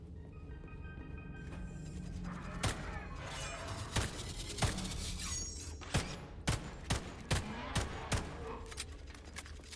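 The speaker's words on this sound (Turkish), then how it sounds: "Şarjör boşalttım yalnız" A magazine is emptied in Atomic Heart as a string of sharp gunshots, sparse at first and then a steady rapid volley, over game ambience with faint background sounds.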